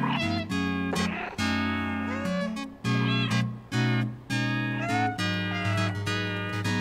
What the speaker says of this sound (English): My cat's singing.